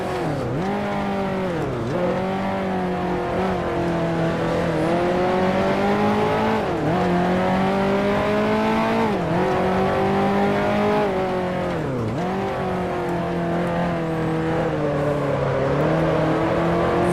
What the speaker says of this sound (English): Very patiently waiting for the car to turn through these medium speed corners.